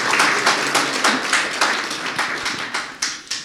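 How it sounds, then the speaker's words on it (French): A small audience at a plenary session on young entrepreneurs claps for a young business founder, the sparse, individually distinct claps coming in an uneven rhythm and thinning out toward the end. "C'est vrai qu'on peut l'applaudir."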